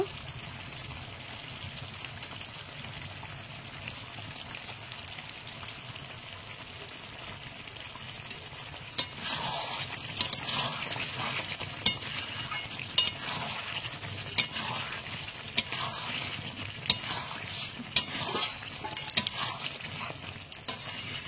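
Chicken kosha stirring and frying in a pan with meat masala, a steady sizzle with repeated spoon scrapes and clinks growing louder partway through, heard alone without talk.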